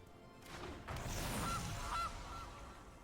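A Gilded Goose card in the Magic: The Gathering video game plays a goose honk effect: a whooshing swell followed by two short, clear honks, fairly quiet.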